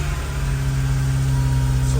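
A loud Honda S2000 engine with a titanium twin-loop exhaust rumbles steadily at a low, throaty pitch, holding a constant drone throughout with no talking.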